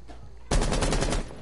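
Rapid burst of gunfire from a Rainbow Six match, a loud dense volley erupting after a quiet moment and rattling on for under a second before cutting off.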